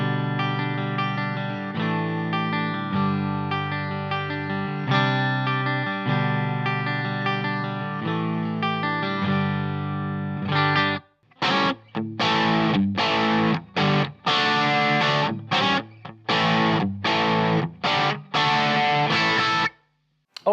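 Electric guitar, an S-Type with its EGP HFT humbucker split by a push-push switch, played through distortion and chorus: sustained ringing chords for about ten seconds, then a run of choppy, muted rhythmic stabs with brief gaps, loud and close.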